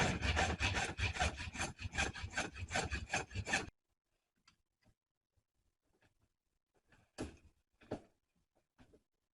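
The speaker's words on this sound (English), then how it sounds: "I'm actually going to get a hacksaw and cut this outer case here" A hacksaw cuts through the outer case of a car part on a Mini R50 being prepared for motorsport, with steady close rasping strokes for several seconds, then a few sparse scrapes after a pause.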